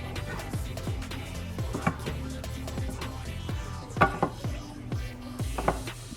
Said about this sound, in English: Now I'm going to continuously stir this to make sure that it doesn't stick to the bottom of the pan or pot.